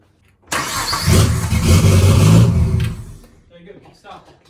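A Nissan Skyline R34 sedan with a turbo conversion cranks and fires up, settling into a loud rumbling idle close by before fading, with people talking and cheering around it.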